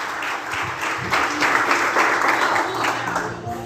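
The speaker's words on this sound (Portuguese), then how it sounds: "Você pode aplaudir o Senhor." A church congregation applauds steadily for a few seconds, a dense wash of clapping from many hands filling the room.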